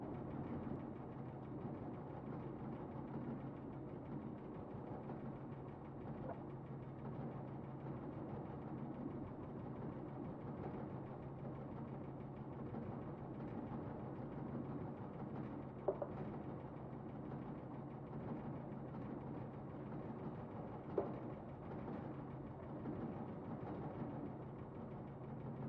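A Screen Table Pro worm farm screening machine runs with a steady, low mechanical hum and vibration, faint and even throughout, with a couple of brief clicks.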